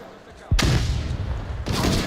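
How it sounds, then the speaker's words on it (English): Gunfire in the VR shooter game Onward during a competitive tournament match: a sharp, loud shot hits after a quiet moment, followed by sustained noisy firing and a second burst near the end. "we're hearing gunshots"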